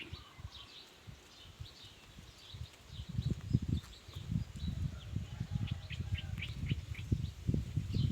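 Birds call and chirp outdoors during Thai decoy bird trapping, with short high calls repeating across the scene over low rustling and thumping noise close by.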